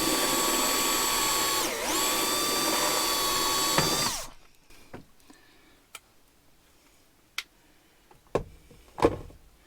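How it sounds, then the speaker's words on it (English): A power drill bores a hole through a panel to relocate a Victron MPPT solar charge controller. It runs as a loud, steady whine for about four seconds, then stops, followed by a few sharp ticks and knocks. "we're now going to drill a hole in here"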